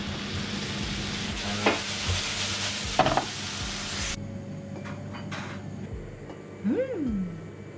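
Brussels sprouts cooking in a pan for a Christmas dinner, a loud sizzle with stirring and clatter that cuts off abruptly partway, followed by quieter kitchen sounds, a brief door or cupboard noise and a short rising tone.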